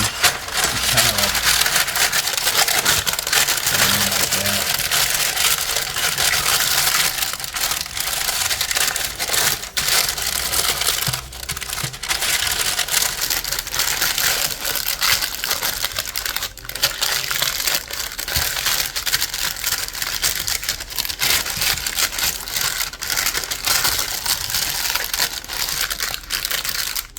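Parchment paper being handled and crinkled while preparing keto pumpkin bread batter, giving a steady, close, dense crackling and crumpling that runs continuously with no talk over it.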